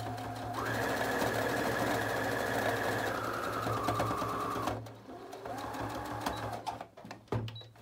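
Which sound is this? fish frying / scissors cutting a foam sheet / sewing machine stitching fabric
sewing machine stitching fabric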